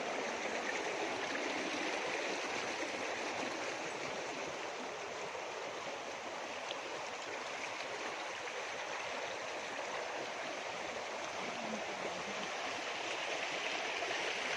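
Clean stream water flowing steadily outdoors on a rainy day, a continuous broadband rush and gurgle with no pauses, moderately loud and alone.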